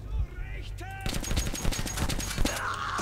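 Weapon fire in the video game Metro 2033, with rapid automatic bursts of close, punchy shots starting after a second, alongside game sounds and brief voice.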